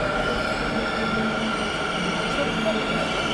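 A metro train at a metro station, a continuous loud rumble of wheels and carriages with faint squealing, steady and close for the whole stretch.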